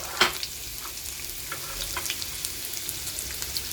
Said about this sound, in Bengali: সর্ষেগুলো ফটফট করে ভাজা শুরু হয়ে গেছে।